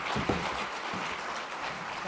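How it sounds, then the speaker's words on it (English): A gala dinner audience gives a round of applause for a speaker being introduced, a dense, steady wash of many hands clapping at moderate distance throughout. "Can we please introduce him with a big round of applause?"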